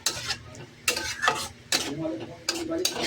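A spoon scrapes and stirs cashew paste and tomato paste into a sizzling pan for Kashmiri aloo dum, in several separate bursts with short pauses between, close and fairly loud.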